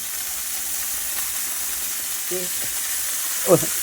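Cashews fry in a pan for payasam with a steady, even sizzle, joined by a brief clink partway through and a short scrape of stirring near the end.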